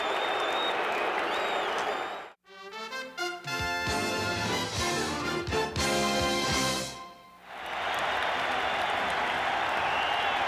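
A big crowd roars and applauds at the Astrodome during the 12th inning of the 1986 NLCS Game 6 between the Mets and Astros, a steady, distant wash of cheering broken by a stretch of music in the middle.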